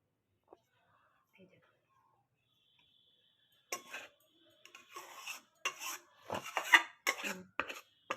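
Dry fried pea filling for kochuri is poured and scraped onto a metal plate, giving quiet gritty rustles and metallic scrapes in short bursts after a near-silent start.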